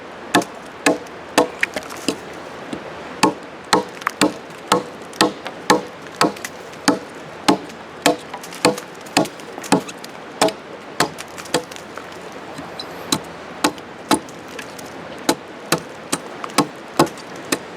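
An axe chops wood outdoors at an Adirondack base camp, landing a long, steady series of sharp, close strikes at a brisk, even rhythm with only faint background between blows.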